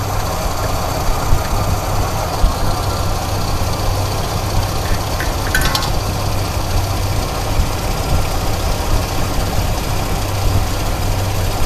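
A small engine, just repaired with a broken bolt and a new choke coil and its idle circuit freshly tuned, idles steadily with a low, even rumble that holds close and constant throughout, no talk over it.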